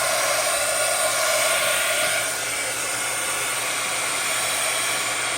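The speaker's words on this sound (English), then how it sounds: "I'm going to take my heat gun and dry that" A heat gun blows steadily over a painted junk journal cover, a loud continuous hissing, whooshing airflow with a constant motor hum, unbroken from start to finish.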